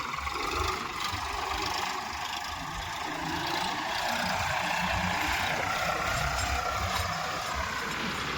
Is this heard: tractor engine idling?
yes